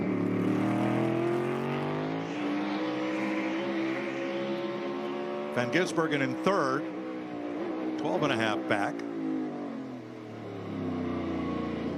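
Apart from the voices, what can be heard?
NASCAR race car engine lugging off a corner, no first gear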